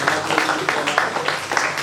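An audience applauding at a cafe artistic event, a fairly loud, steady patter of many hands clapping throughout, with voices mixed underneath.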